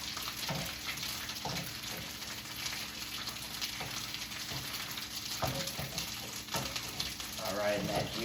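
Chorizo sizzles and fries in a pan for a burrito, its juices boiling off in a steady, crackling hiss with occasional stirring clatter, fairly faint and without talk.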